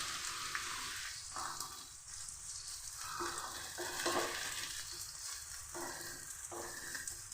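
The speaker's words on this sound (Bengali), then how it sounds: "লাল করে ভেজে নিচ্ছি।" Ginger and onion frying in mustard oil in a wok: a continuous, dense sizzle with rhythmic scraping as the pieces are stirred, close and fairly loud, with no voices.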